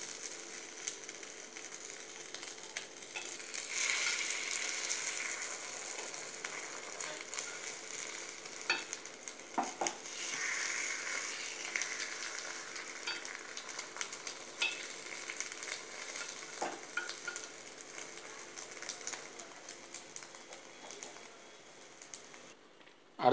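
Egg paniyaram batter frying in a paniyaram pan, giving a soft, steady sizzle with light crackles and pops that continues throughout, fairly quiet and without talk.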